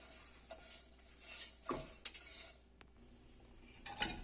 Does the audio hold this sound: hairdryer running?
no